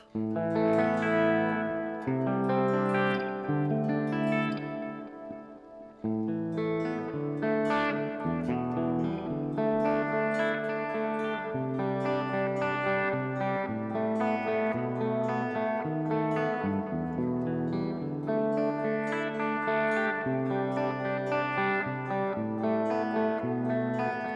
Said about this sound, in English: more or less this is my clean. Good for arpeggio